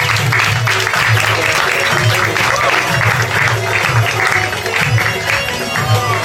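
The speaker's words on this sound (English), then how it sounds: "Let's clap for them." Audience clapping at a fashion show of traditional Afghan clothing at a women's rights event, steady applause over loud background music and crowd noise.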